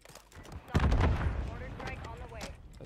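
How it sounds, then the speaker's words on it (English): Mortar fire in the video game Modern Warfare 3: a sudden heavy boom followed by a rumbling, fading tail of distant blasts and gunfire. "That's my mortar."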